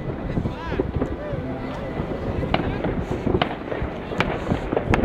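Fireworks bursting with a string of sharp cracks and pops at irregular intervals over a steady wash of crowd chatter and wind noise outdoors; people talk throughout.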